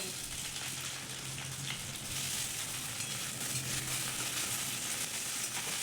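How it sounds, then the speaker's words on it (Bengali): Onion, egg and capsicum frying in a pan for egg chilli, a dense continuous crackling sizzle like light rain, steady and close throughout, with no talk. "তো ডিম ও ক্যাপসিকামটাকে ভেজে নিয়েছি"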